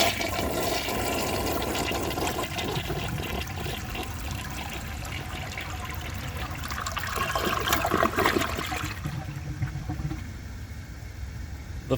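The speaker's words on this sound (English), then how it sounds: "So I'll show you guys a flush" A 1982 Crane Dalton toilet flushes with a loud, full rush of water that swirls for about nine seconds, then fades to a quieter trickle and refill as the bowl settles; no voices.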